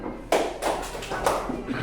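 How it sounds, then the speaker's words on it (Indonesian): Fifth-grade schoolchildren in a classroom clap on cue, giving a few loose, slightly scattered claps against low room noise rather than one clean unison hit. "Yang dengar arahan Bapak, tepuk satu kali."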